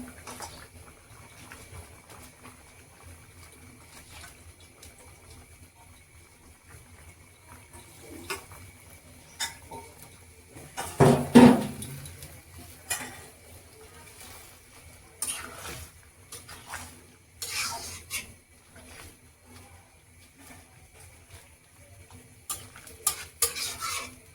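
Thankuni leaves go into a pot of simmering potatoes, with scattered soft stirring, rustling and clinking, one louder burst of scraping midway, and quiet bubbling in between, heard close and with no voices.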